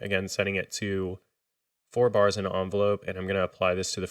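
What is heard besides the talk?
No distinct noise like a dog, phone or traffic.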